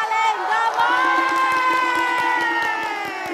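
An audience at a Bali TV quiz show lets out a loud, sustained chorus of cheering with voices sliding down in pitch, and scattered hand claps patter beneath it throughout.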